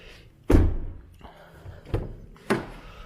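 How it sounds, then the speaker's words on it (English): Door of a 2020 Ram 1500 Limited pickup swinging shut with a solid, heavy thump, followed by a couple of lighter knocks and taps close by in a quiet cabin setting. "Close the door."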